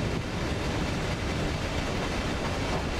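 A BCNHL freight train hauled by two locomotives passes in the Open Rails train simulator on an Indian Railways route, giving a steady, continuous rumble of rolling wagons close by with no talk over it.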